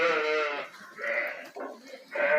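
Young lambs on a farm bleat close by, giving several wavering, high-pitched cries separated by short pauses, with no talking.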